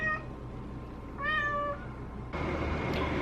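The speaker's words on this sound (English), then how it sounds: "my cat wants attention" A pet cat meowing for attention indoors, two drawn-out meows close by, the first brief and the second longer, with a burst of broadband noise after them.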